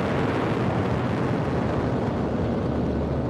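A 1,500-kilo bomb blast striking a steel girder in a London Underground Northern Line tunnel, heard as a sustained, dense, loud low roar rumbling without pause, with no voices present.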